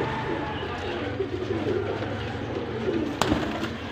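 Pigeons cooing at a breeder's loft in Lahore, soft low coos repeating amid steady background noise, with one brief sharp knock near the end.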